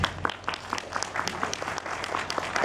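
Audience applause at a book presentation during a book fair, a dense, steady patter of many hands clapping close by, sustained evenly throughout.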